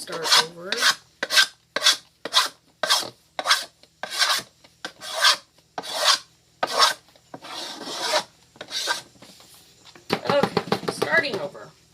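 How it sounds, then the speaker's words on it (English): A spread layer is scraped off to start over, giving a steady series of about a dozen raspy scraping strokes, close and distinct, ending in a faster, denser flurry of scrapes. "I'm just going to scrape it and start over"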